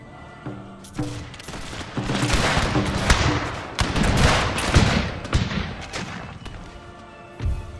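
Musket volleys in an Empire Total War battle between Swedish and Russian line infantry, heard as rolling, crackling waves of massed shots with deep thuds, loud and near, swelling and fading across several seconds.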